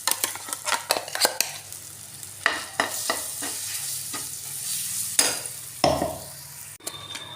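Ground lentil paste is stirred into hot oil already seasoned with asafoetida while making dal puri, giving a continuous sizzle and fry hiss broken by frequent scraping and clinking of a spoon against the pan.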